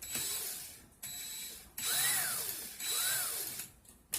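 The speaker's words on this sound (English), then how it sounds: "stick it into my drill chuck, start my clapton again." A power drill spins 40 gauge wire into a clapton coil, its whine rising and stopping in several short bursts with gaps between them, close and moderately loud.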